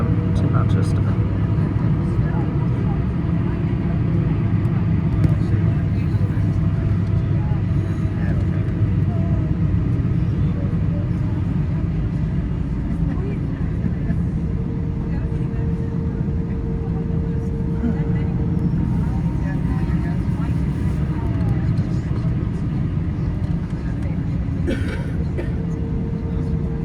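A jet airliner taxiing and queuing for the runway at Manchester Airport: a steady, continuous engine rumble and whine at moderate distance, with someone talking over it throughout.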